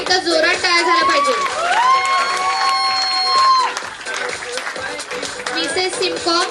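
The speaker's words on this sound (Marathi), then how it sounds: "सर्व विनर्ससाठी एकदा जोरात टाळ्या झाल्या पाहिजे." An audience at a fashion carnival awards ceremony breaks into loud applause and cheering for the winners, the clapping dense and sustained alongside tonal music or voices before it thins out.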